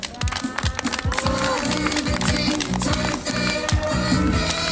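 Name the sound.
audience applause at a rally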